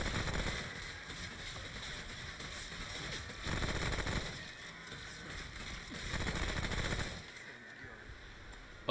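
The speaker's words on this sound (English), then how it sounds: "Who's shooting at me?" Sustained rapid gunfire from the video game Remnant: From the Ashes, dense and loud throughout with slight surges in intensity, ending in a brief lull.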